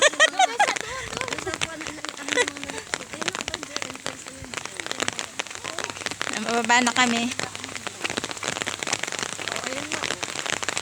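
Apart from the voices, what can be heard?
heavy rain in Tagaytay City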